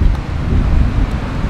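Strong wind outdoors beside a caravan buffets the microphone in a continuous low roar, loud and close, with no other clear sounds.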